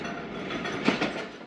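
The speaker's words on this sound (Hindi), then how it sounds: "7:18 पर दोस्तों ट्रेन का अराइवल हुआ है मंडो डेरो रेलवे स्टेशन" Zakariya Express arriving at Mando Dero railway station, a steady broad rumble of rolling carriages with a few louder clattering bursts toward the end, no voices.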